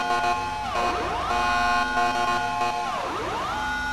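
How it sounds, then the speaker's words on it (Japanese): A police car siren in the video game GTA 5 wails in repeated rising and falling sweeps, loud and steady throughout with no talking. "このサイレンはめっちゃいいんじゃないかなと思います"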